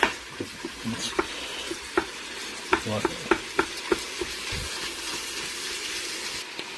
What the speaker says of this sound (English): you're going to throw in your meat. And you're going to brown up your meat